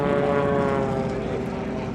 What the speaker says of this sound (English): I had no idea the planes would be so close.